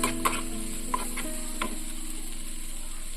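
Egg being stir-fried for Wai Wai noodles, a faint steady sizzle with a few soft spatula scrapes and taps near the start, close and quiet with no talking.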